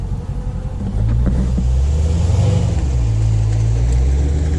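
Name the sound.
Dodge Charger police car engine revving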